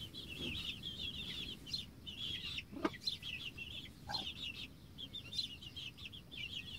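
Broody hens and chicks in a shared coop make soft, continuous high cheeping, with a few lower hen clucks and a brief squawk mixed in, close and fairly quiet.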